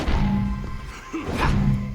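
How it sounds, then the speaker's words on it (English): In the 2010 Splatterhouse video game, a character slams down onto a metal plate, giving a couple of loud, heavy thunks and thuds over a dark game backdrop. "there's a unique sound for slamming down on this metal plate"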